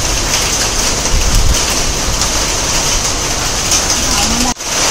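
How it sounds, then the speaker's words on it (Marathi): Heavy rain pouring down at Kankeshwar Temple, Alibaug, in a loud, dense, steady roar that fills the whole clip, with a brief dropout near the end. "एकदम जोरात पाऊस आलेला आहे."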